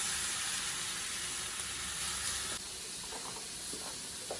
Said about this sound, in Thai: อันนี้ข่อจะใส่เฟรนฟรายไปในหม้อแล้วนะคะ